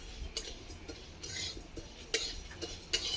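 Short sharp clinks and knocks of a mortar and pestle crushing freshly fried spices for a green mango pickle, irregular strikes with some close and loud, against a low background.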